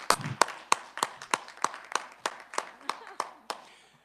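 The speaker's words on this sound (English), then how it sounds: "If we could break decorum and give you a hand clap for 1 second with leave of the chair" About a dozen sharp, evenly spaced hand claps ring out in a House K-12 education budget committee hearing room, steady and deliberate rather than a full crowd applause.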